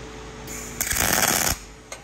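Pulse MIG tack welding on aluminum with a YesWelder YWM 211P: a loud, dense crackling buzz lasting under a second, set between quieter stretches of ambient noise, with a brief faint click at the end.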